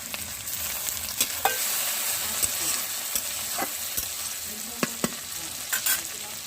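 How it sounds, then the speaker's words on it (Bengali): Small-chopped tomatoes fry and sizzle in a pan for a dhaba-style chicken egg tadka, with a constant hiss broken by scattered sharp clinks and scrapes of stirring. "এক মিনিট নাড়াচাড়া করার পর আমি দিয়ে দিলাম টমেটো, ছোট করে কেটে রাখা।"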